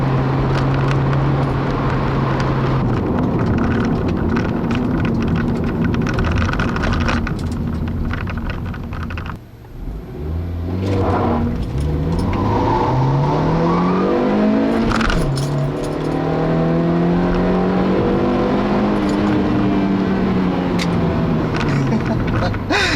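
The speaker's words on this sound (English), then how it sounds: "You can hear it gets pretty noisy around this corner" Loud 2012 Honda Fit Sport engine roaring and rising in pitch through hard acceleration while cornering, with a brief dip then revving again, close up from inside the car.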